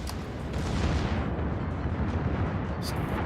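Secondary guns of a warship in World of Warships firing a sustained barrage, a dense continuous rumble of overlapping booms with no clear gaps between shots.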